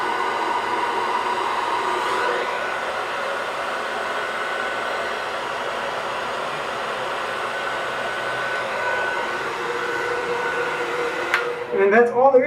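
A blow dryer blows a steady loud whooshing drone on a beard for several seconds, then clicks off near the end with some handling rustle.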